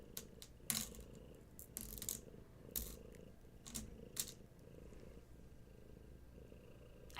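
A pet cat purrs softly and steadily close by, a low continuous rumble under scattered brief clicks and rustles, with no talking.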